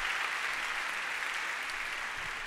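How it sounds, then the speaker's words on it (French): A church congregation applauds, a dense, even wash of clapping that holds steady for a couple of seconds with no speech over it. "on peut aussi les applaudir aussi"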